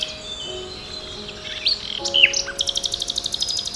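A nightingale sings in spring, moving from clear whistled notes and brief warbles to a rapid, rhythmic run of repeated chirps, close and bright against a quiet background.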